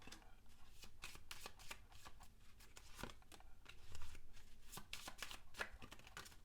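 Lenormand cards are shuffled and handled by hand, a quiet, close run of quick papery riffles and soft slaps that continues steadily throughout, with no talking.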